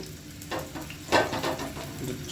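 Potatoes dropped into fully heated oil for a first fry crackle and sizzle continuously, with sharper bursts as pieces hit the oil and get stirred. The sound is close and busy, with no voices over it.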